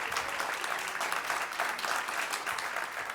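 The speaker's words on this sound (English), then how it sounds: "let's give her a round of applause" Audience applause for poet Maggie Smith at a Poetry Out Loud state event, a steady dense clapping from a crowd that holds even and fairly loud throughout, with no voices over it.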